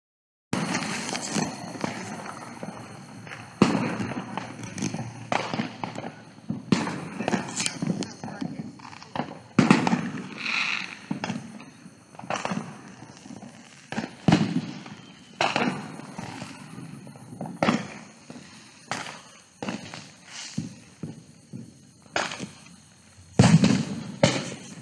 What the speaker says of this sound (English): There's some more firecrackers.